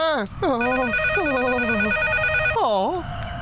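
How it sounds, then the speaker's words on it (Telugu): A telephone rings with a steady electronic tone for about two seconds while a voice talks over it. "ఇంత పొద్దున్న ఎవరు ఫోన్ చేస్తున్నారో తెలియట్లేదా?"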